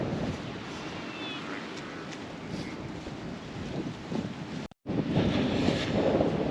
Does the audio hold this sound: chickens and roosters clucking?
no